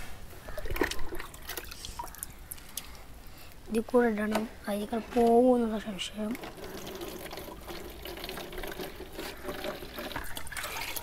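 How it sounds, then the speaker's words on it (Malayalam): Water pours into a homemade vertical aquarium as a steady, moderately loud trickling wash that runs under people talking throughout. "നമുക്ക് വെള്ളം നിറക്കാം"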